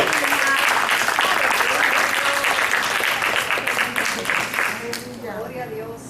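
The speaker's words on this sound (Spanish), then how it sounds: "Démele un aplauso a Jesús" A church congregation applauds for Jesus, a dense sustained wave of clapping that fills the room and then thins and fades, with a few voices calling out as it dies away.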